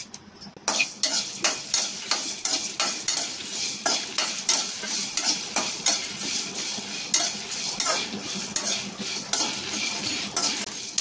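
Spices and coconut pieces dry roasting in a pan for capsicum masala curry, with rapid rhythmic scraping and clinking of a spatula stirring them, close and steady throughout with only a faint sizzle.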